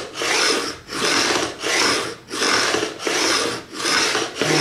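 Steady back-and-forth rasping of a file beveling the fret ends on a Fender Japan Telecaster during a re-fret, seven even strokes in a regular rhythm, close and clear with no voices.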